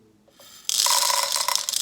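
Dry popcorn kernels are poured into a container at close range, making a dense, continuous rattling hiss that starts suddenly and keeps going steadily, preceded by a few light clicks.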